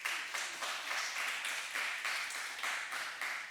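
Applause at a university student representative council election announcement, quiet and somewhat distant, with regular pulsing claps that sound partly rhythmic and continue steadily for a few seconds.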